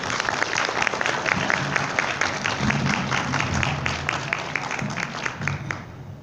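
Steady applause from a ComicCon audience in Mexico welcoming comic artist José Luis Durán, dense clapping from many hands filling the hall without pause, no voices on top.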